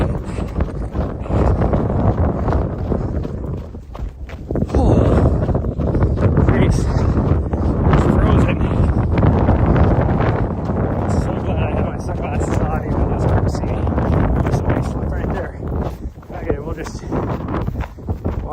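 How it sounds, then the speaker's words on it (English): Freezing wind buffets the microphone during a trail run, producing a loud, continuous rushing roar that dips briefly before surging again for the whole stretch. "I need to get out of this wind."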